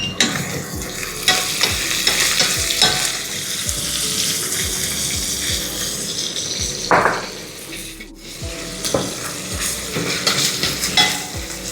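Chopped onions and fresh mint sauté in a hot pan with a continuous close sizzle, broken by repeated scraping stirs of a spoon, loud and steady throughout with no talking.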